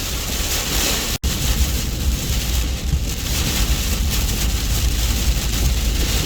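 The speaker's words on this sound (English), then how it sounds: "It's only been raining for half an hour, and it's already starting to flood here." Heavy storm rain pours steadily in Alabama, a loud continuous broadband roar with a wind-like wash throughout, briefly cut by a momentary dropout near the start.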